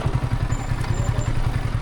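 A motorcycle engine putters steadily with a low, rhythmic throb on a rough rural road, accompanied by faint rattling, under open outdoor ambience.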